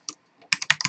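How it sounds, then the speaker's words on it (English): Typing on a computer keyboard while entering a character name: a short burst of about six close, crisp key clicks after a faint lone tap. "Let's type this in."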